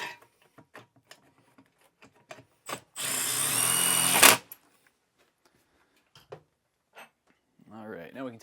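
A power drill driving a bolt with a 3/8 socket, snugged down on an RV air conditioner air distribution box on a roof, runs in one loud, steady burst of about a second and a half, with scattered clicks and brief talk before and after.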